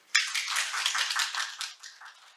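A short burst of applause from a conference audience after a discussion session on Jeju Special Self-Governing Province, a dense patter of hand claps that swells quickly and then tapers off within about two seconds.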